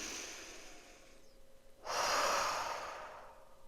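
A single deep breath in guided meditation: a soft, quiet intake fades, then a full exhale swells after a short pause, close and unhurried, with no voice.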